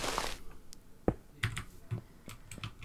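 Keys clack on a new computer keyboard, a few separate sharp taps and short bursts spaced unevenly over a faint background hiss, close by with no voices.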